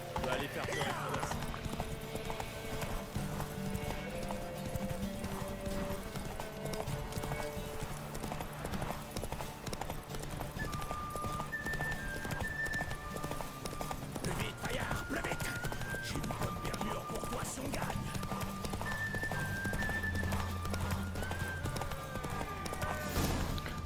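Horse hooves clip-clop steadily through a Witcher 3 game scene, a continuous rhythmic trot running the whole stretch under game music and a man's dialogue, with a brief whinny.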